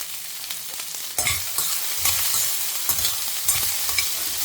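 Okra sautés in oil in a pan with a bright, continuous sizzle broken by repeated scraping stir strokes roughly every second, close up and with no voices.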